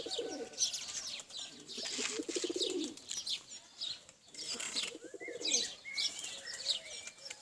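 Pigeons being flown and kept outdoors coo in repeated low throaty bursts, with chirps and light bird calls mixed in, fairly close and intermittent.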